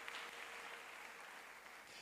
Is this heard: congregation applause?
yes